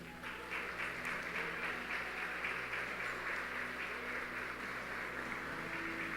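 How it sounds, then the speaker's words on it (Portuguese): A church congregation applauds together in a steady, sustained wave of clapping that carries on for several seconds, with a low hum beneath it and no voices rising above the clapping. "vamos aplaudir Jesus"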